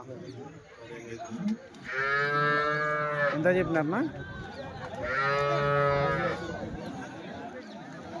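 Cattle at a weekly cow market in Chintamani moo in two long, loud, drawn-out calls, with people talking nearby between and under them.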